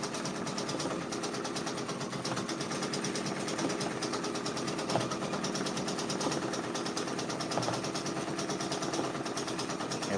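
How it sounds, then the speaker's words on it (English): An embroidery-style sewing machine stitches a bowl-of-cherries fan art patch, producing a steady rapid mechanical whir with a constant rhythmic needle clatter, close and uninterrupted. "And we just gonna keep on stitching."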